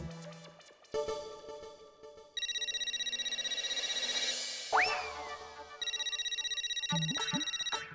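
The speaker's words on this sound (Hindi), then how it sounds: "ये रात गए कौन फोन कर रहा है?" A telephone rings with repeated electronic trilling tones, close and clear, with a sliding beep and a few short chirps in between.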